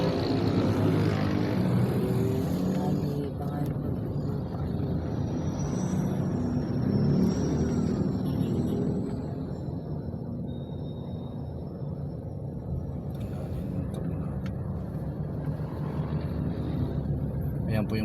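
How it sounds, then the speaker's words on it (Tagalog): Heavy road traffic crawling past roadworks, a steady broad rumble of engines with passing vehicles and some higher whines, fairly close, easing slightly halfway through, while a voice talks over it. "Makikita nyo po sobrang traffic po rito dahil may ginagawang kalsada."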